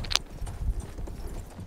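Horse hooves clip-clop in a video game while riding, a run of soft irregular thuds with a sharp jangling click near the start.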